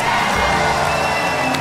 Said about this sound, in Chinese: 现场掌声雷动